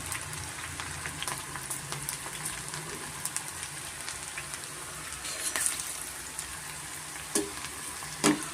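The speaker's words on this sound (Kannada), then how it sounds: "ಪಕೋಡ ಥರ ಬಿಡೋಣ ಸ್ವಲ್ಪ ಮೀಡಿಯಂ ಫ್ಲೇಮಲ್ಲೇ ನಾವು ಬೇಯಿಸ್ಕೊಬೇಕಾಗುತ್ತೆ" Battered banana flower and onion pakoda fry in oil over a medium flame, a quiet, steady crackling sizzle with occasional sharper pops, heard close and alone.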